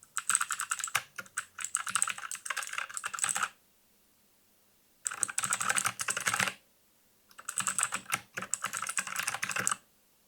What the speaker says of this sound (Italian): sentire la riduzione dei rumori di una tastiera meccanica a circa 20 cm dal microfono